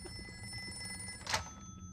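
A telephone rings in a dungeon-themed video game, a short bright electronic ring burst rising briefly over a steady humming background with no talk.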